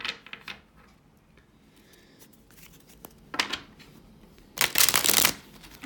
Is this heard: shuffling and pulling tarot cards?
yes